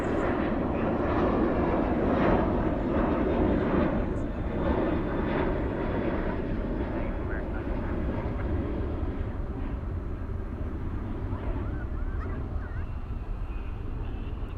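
A steady, broad rumble of an aircraft engine starting up nearby at night at Dallas/Fort Worth airport, holding constant throughout with faint honk-like sounds in the background.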